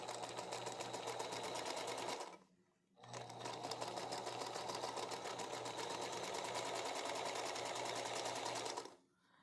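A sewing machine stitches quilt fabric while dragging it, running in a steady fast whir with a brief pause partway through and a stop near the end, with no talk.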